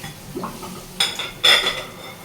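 Cups and dishes being washed in a home kitchen: close clinks and knocks of crockery, with two sharper bright clatters and quiet handling noise between them.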